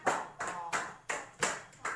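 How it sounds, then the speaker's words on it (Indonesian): Classroom applause in a primary maths lesson, several short bursts of clapping in a steady rhythm, fairly faint and close, with no talk over it. "Beri tepuk tangan"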